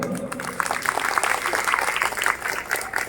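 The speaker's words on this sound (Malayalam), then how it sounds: "എന്നാ നല്ലൊരു ക്ലാപ്പ് കൊടുത്തോടെ നമുക്ക്." An audience claps together at a music event, a dense, fairly loud patter of hands that holds steady for a few seconds.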